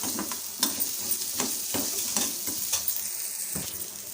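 Onions and chilies sauté in a pan, a quiet, continuous sizzle punctuated by a string of rhythmic spoon scrapes and taps as they are stirred.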